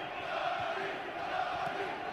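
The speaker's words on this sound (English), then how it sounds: "Crowd trying to will John Duddy into a strong finish" A large crowd at the John Duddy versus Billy Lyell boxing match roars steadily at a distance, a dense wash of cheering voices with no single voice standing out.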